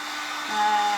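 A heat gun blows hot air onto a flexible WoodUbend moulding, a steady close whirring hiss that rises slightly in loudness partway through.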